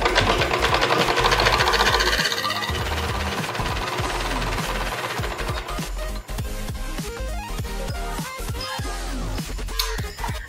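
A sewing machine stitching a blouse runs in a steady, loud mechanical whir with rapid needle ticking, continuous and close throughout.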